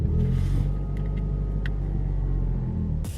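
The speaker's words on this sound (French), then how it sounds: "on va allumer la voiture" A Ford Mustang V8 rumbles at idle with a deep, steady low throb close by, a few small clicks and knocks over it, and a sharp rise in noise right at the end.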